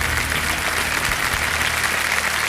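Studio audience applauding on a televised quiz show, a steady, dense wash of clapping that stays loud and even from start to finish with no talk over it.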